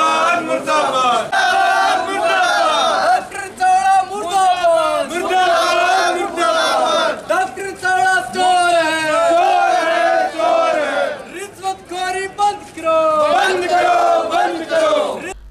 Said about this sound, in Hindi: डॉक्टर और अस्पताल प्रशासन के खिलाफ नारेबाजी कर रहे ये लोग हैं 9 SSW के